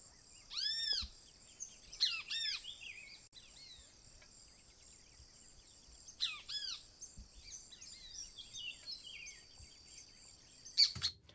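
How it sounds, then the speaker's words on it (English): Birds sing in short bursts of chirps and tweets, picked up in an ambisonic field recording. The calls are spaced across a quiet outdoor background and return several times, with one loud call near the end. "Okay, so there are some birds going on."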